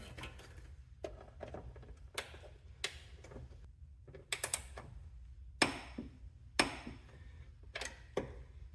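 Wrench clicking in short irregular bursts while tightening a front upper ball joint nut on a 2003-07 Honda Accord, sharp metallic ticks and ratcheting spread across the clip over a low background rumble.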